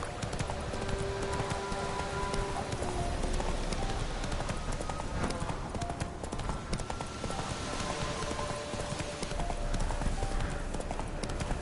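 Roach the horse from the video game Witcher 3 trotting, with steady, close clip-clop hoofbeats running throughout, while soft voices are heard in the background.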